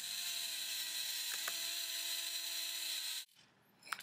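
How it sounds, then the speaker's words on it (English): A Dremel rotary tool whines steadily at high speed while grinding a V into a crack in an engine block, a loud continuous tone for about three seconds before it cuts off into quiet with faint handling noises. "I basically got some different Dremel bit tools to try to clean this up and V it out."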